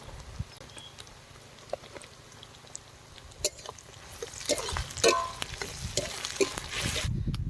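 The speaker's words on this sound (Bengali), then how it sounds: "পেঁয়াজ আর লঙ্কা ভাজা হয়ে গেছে" Sliced onions and green chillies fry in a pan with a soft sizzle and occasional scraping stirs, the crackle growing louder and denser toward the end.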